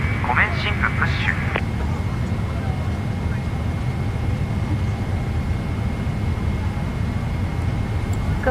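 Boeing 777-300ER airliner in a flight simulator during pushback, a steady low engine and cabin rumble running unbroken throughout, with a faint brief voice early on.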